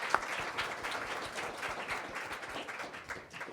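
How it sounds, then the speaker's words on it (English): A conference audience claps for three panel speakers at a legislative-session talk, a soft, distant wash of many hands that stays fairly even before easing off slightly at the end. "Can we get a round of applause for our three speakers here today?"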